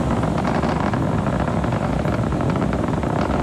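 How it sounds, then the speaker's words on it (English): A SpaceX Falcon 9 lifts off from pad 39A at Kennedy Space Center on a 2020 Starlink mission, its nine Merlin engines giving a loud, continuous, unbroken roar with no talk over it. "Successful liftoff for Falcon 9 from pad"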